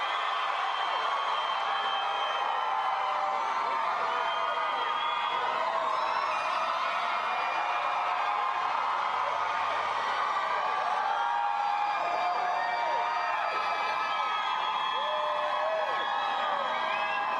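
A large Los Angeles concert crowd roars and whoops as the band is introduced, a continuous wash of cheering with shrill cries rising above it, heard from a distance.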